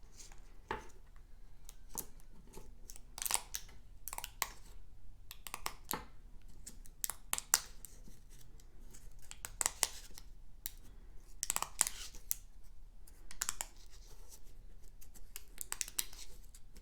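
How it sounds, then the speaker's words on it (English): Wax paper being peeled off a store-bought snack, heard up close in a quiet room as a series of sharp crinkles, tears and rustles that come in irregular bursts between near silence. "I'm gonna just try to peel off the wax paper."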